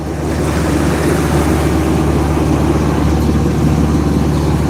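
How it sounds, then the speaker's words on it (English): Sailboat motor sailing at about 6 knots with a little sail out on the way to Lorengau, Papua New Guinea: a continuous loud rush of waves, wind and low engine drone with no talking. "We're motor sailing right now."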